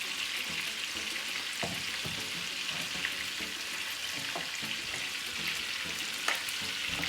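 Butter sizzles in a hot pot, a soft steady frying hiss with occasional light clicks and crackles, fairly quiet and without talking.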